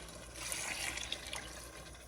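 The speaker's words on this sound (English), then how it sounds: "And then I'm going to add in 2 cups of water." Two cups of water pour into a pot holding canned kidney and black beans for chili, a soft continuous splashing fill that swells and then trails off, fairly quiet and without talk.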